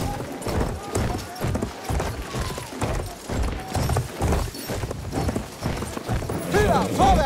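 Rapid hoofbeats of a galloping cavalry horse in Battlefield 1 pound under a busy mix of battle noise and occasional voices.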